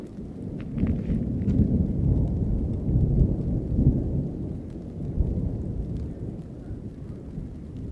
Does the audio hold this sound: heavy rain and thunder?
yes